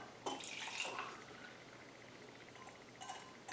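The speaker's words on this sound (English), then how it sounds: "I'm going to go ahead now and pour it into the cup" Malaysian teh tarik, pulled tea brewed from loose leaf tea, is poured into a cup, a soft close stream of liquid that trickles off into faint drips and light clinks.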